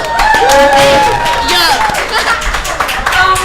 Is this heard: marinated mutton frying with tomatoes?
no